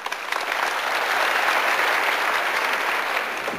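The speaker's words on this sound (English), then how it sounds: "you heard the crowd here at the Bob Devaney Sports Center, the hometown crowd" A hometown crowd at the Bob Devaney Sports Center applauds a gymnast at an NCAA men's gymnastics meet, steady loud clapping and cheering sustained throughout.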